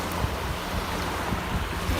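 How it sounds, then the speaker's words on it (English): Ocean surf washes steadily onto an East Coast beach on a rainy, windy day, a continuous loud rush of breaking waves with gusty wind on the microphone and no voices. "Now the waves are starting to come in a little bit better."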